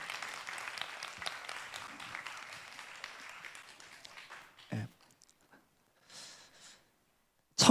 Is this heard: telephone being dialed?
no